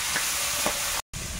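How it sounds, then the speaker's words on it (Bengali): Fish fries in hot oil in a pan, a loud, steady close-up sizzle with a couple of brief spattering pops, cut by a short silence near the end before the frying resumes. "মাছ ভাজাটা যা দেখতে লাগছে না"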